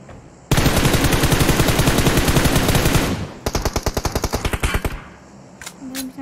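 Rapid automatic gunfire in PUBG Mobile, a long sustained burst followed by a shorter, sharply spaced volley of shots, loud and close.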